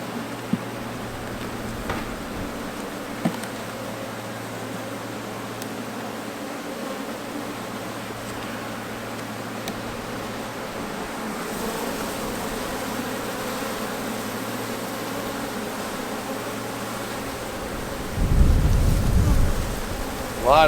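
A honeybee swarm buzzes steadily at the hive, a dense, continuous hum throughout with a few light knocks. A louder rumbling burst comes near the end.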